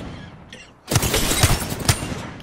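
Gunfire in Apex Legends erupts after a brief quiet lead-in: a dense, loud burst of rapid shots with sharp cracks standing out through a sustained volley.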